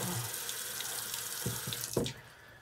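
Tap water runs into a sink for a final rinse after shaving, a steady close hiss and splash with a few brief knocks and splashes near the end before the flow stops.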